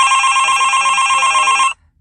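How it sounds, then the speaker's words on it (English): A telephone rings with a bright, steady electronic trill that holds loud and close for almost two seconds before cutting off abruptly into quiet. "I'm getting a phone"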